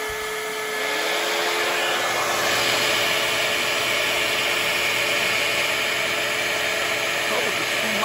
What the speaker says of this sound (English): now I'm going to turn on my home hair dryer that I haven't been able to use in the RV